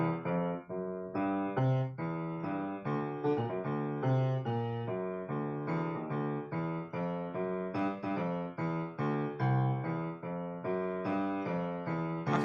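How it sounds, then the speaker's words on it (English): A steady walking bass line strides note by note under chords in a relaxed, even rhythm with no talking. "this is how a walking bass would, and it's called walking bass because they just walk around"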